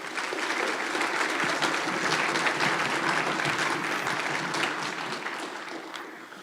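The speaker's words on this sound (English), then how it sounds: "So a big round of applause," Concert audience at a summer wind ensemble concert applauding with dense, sustained clapping throughout, slowly thinning toward the end.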